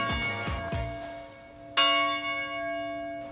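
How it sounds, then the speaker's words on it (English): A chapel bell strikes several times in quick succession, each ring leaving a long, bright humming decay, followed by a louder single strike that rings out clearly and sustains to the end. "you can come here and ring this bell"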